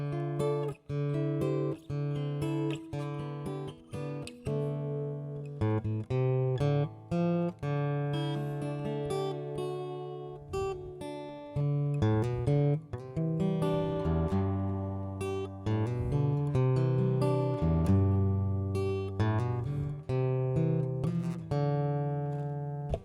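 A 2023 Taylor GTe Urban Ash acoustic-electric guitar plays strummed chords and picked runs in a steady rhythm, close and clear, with no voices.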